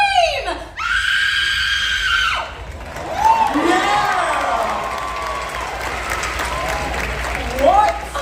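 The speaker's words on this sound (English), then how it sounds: "Let's all hear how you would scream!" At a special effects stage show, a woman lets out a long, shrill horror-movie scream, followed by a loud crowd cheering and shouting, with further shrieks and whoops rising from the audience.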